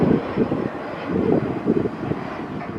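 An ATR turboprop airliner with six-bladed propellers rolls along at the Farnborough Airshow 2024, giving a steady, moderately loud propeller and engine rumble that rises and falls in level.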